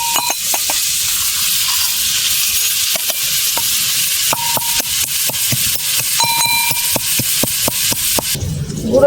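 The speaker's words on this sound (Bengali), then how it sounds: "আমটা নেড়ে চেড়ে একটু ভেজে নেবো" Mango pieces fry in oil for pickle, a loud continuous sizzle broken by repeated sharp clinks and scrapes of a spoon against the pan as they are stirred.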